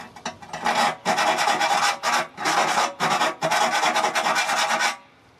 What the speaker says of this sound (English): We're going to use a round file